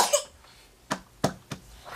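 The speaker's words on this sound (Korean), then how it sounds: "가래와 기침 때문에 먹고 토하길 반복합니다." An infant with pneumonia coughing: a few sharp, separate coughs spaced out over a couple of seconds, close and moderately loud, with short quiet gaps between them.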